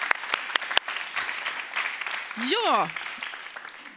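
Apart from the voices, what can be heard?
audience applause welcoming the panel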